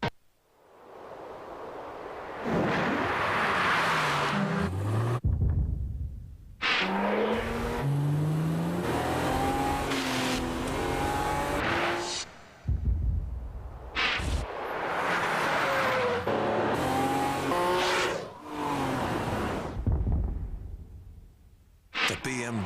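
A BMW X5 engine revs and surges through a loud, sweeping driving sequence with tire noise, punctuated by brief gaps, with a voice speaking over parts of it.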